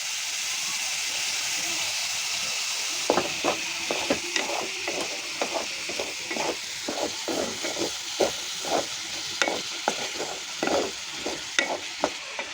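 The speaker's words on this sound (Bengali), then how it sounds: "পেঁয়াজ কলি ভাজি করতেছে আজকে" Spring onion stalks stir-fried in a pan: a constant close sizzle, then from about three seconds a regular series of scraping, clattering spatula strokes over the frying hiss, with no talking.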